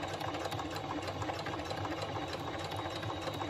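A home sewing machine top stitches slowly through four thick layers of a tote bag, a steady close mechanical whir with a rapid needle rhythm running continuously without talk.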